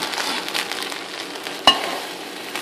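Zarda, a sweet Pakistani-style rice dish, being mixed in a pot, giving a soft steady scraping and stirring hiss with one sharp spoon clank against the pot partway through, close and alone.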